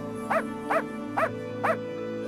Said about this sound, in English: I'll raise the volume so you can hear our bark